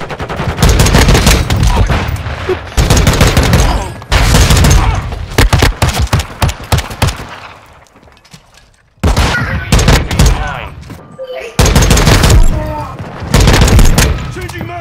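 Loud explosions and rapid gunfire from Modern Warfare II, a video game, arrive in dense bursts with a quieter gap in the middle, while a player talks over the action.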